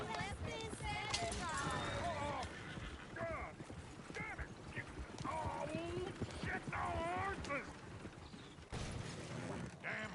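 Horse hooves clip-clopping in a video game on PS4, mixed with creaking mechanisms and rattling, heard under continuous game dialogue and voices throughout.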